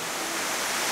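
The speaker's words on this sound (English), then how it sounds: "Whoa. The waterfall." Waterfall rushing as a steady, loud broadband roar that fills the whole short moment with no break or other sound.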